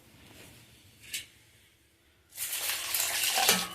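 Water is poured into a mixer grinder holding soaked grains, pepper, cumin, turmeric, asafoetida and salt for spicy adai dosa batter. After a quiet start with one brief splash, a steady, loud rushing pour fills the second half.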